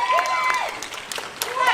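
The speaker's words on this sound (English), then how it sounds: "Give the biggest round of applause to Jason Patric." A panel crowd in Texas claps and whoops to welcome actor Jason Patric, with the applause rising and falling under a voice speaking over it.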